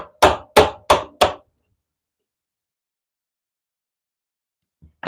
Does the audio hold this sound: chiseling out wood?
yes